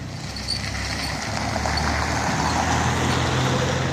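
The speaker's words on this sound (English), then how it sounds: "Just wait a second for the car to pass so you can hear me." A car passes by on a nearby road, its tyre and engine noise swelling gradually from a moderate hiss to a louder, steady wash by the end, with no talking.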